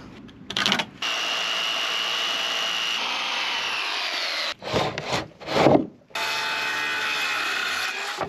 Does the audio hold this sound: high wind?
no